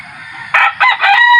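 A fighting rooster crows close and loud, a single raspy, multi-part call rising after a moment of quiet, with no talk over it.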